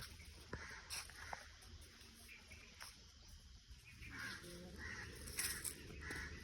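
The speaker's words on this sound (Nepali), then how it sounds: "बोर्डमा पुरै काग कराइरहेको आज" Crows caw several times at a distance near a maize field on a hot day, over a steady background of chirping insects, the calls faint and irregular.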